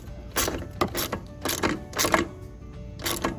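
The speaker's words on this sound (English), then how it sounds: "It's got that vinyl in it, so once you get it into the locking part, you can go ahead and ratchet away." A ratchet wrench tightens a lock nut with a vinyl insert on a Permagreen Triumph, giving bursts of repeated clicking in uneven strokes, close and fairly loud.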